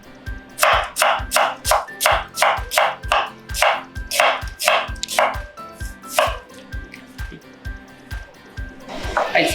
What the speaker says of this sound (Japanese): 玉ねぎはね、ヘタを取ってスライスしていきます